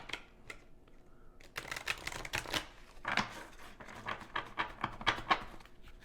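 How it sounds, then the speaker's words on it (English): A wisdom oracle card deck is shuffled and handled: quiet, rapid papery flicks and soft taps in an uneven patter, with a denser burst of shuffling in the second half. "let me get an oracle, a wisdom oracle card for you as well."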